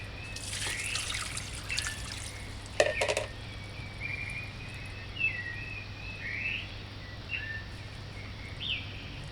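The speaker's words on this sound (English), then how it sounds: "I am adding the 16 cups of water to brew this tonic." Water trickles and splashes into a pot for an herbal tonic, with a brief louder pour early on followed by small intermittent drips over a steady low hum.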